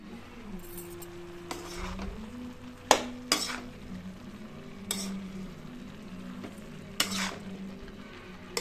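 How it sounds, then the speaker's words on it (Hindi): A spoon stirs aloo gobi curry with softened tomatoes and spices in a pan, producing soft scraping and a low simmer, punctuated by several sharp metallic clinks against the pan at irregular intervals. "तो अच्छे से मिक्स कर देती हूँ मसाले के साथ।"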